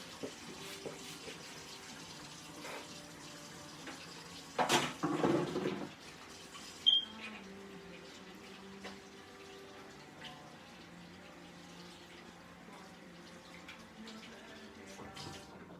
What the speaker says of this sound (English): I'll go ahead and wash my hands with this old Dawn over here